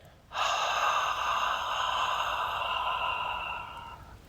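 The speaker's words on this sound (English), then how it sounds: "there's a soft toning of the epiglottis at the back of the throat to create a whisper sound" A long, steady whispered ujjayi exhale through a constricted throat during yoga breathing, soft and airy, lasting about three seconds before fading out.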